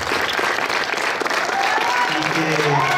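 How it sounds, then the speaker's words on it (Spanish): A crowd of wedding guests at a church ceremony in San Sebastián claps steadily and loudly, with a voice speaking faintly under the applause toward the end. "Vamos a darle un fuerte aplauso"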